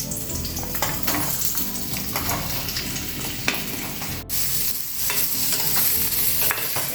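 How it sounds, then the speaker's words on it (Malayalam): Carrots sauté in hot oil for carrot sambar, a steady close sizzle and crackle punctuated by scraping stirs of a utensil against the pan, with no talking. "നമുക്കിനി ക്യാരറ്റ് ഒന്ന് വഴറ്റിയെടുക്കണം"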